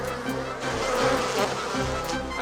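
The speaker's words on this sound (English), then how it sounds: "this thing actually just attracts wasps" Steady, close buzzing of wasps droning continuously in a cartoon, with a faint rising and falling hum and no voices.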